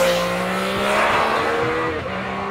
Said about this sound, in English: you top all that off with what is undeniably an awesome exhaust sound